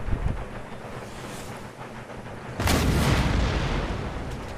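Demi-cannons and mortars fire in an Empire Total War battle, a broad low rumbling boom swelling at about two and a half seconds and sustained over steady windy battlefield noise.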